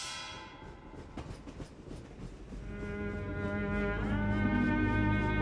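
Train rumbling past at close range with clattering wheels and steady low roar, a horn-like sustained tone rising as it nears and growing louder toward the end.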